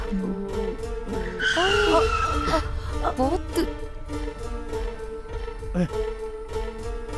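A vehicle brakes hard to a stop, its tires squealing in wavering, skidding shrieks for a couple of seconds over engine noise, with people talking over and after it in a Tamil comedy scene.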